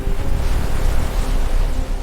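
Heavy ocean waves crash and surge against a ship at sea during a storm, a continuous loud roar of water and wind with no pauses.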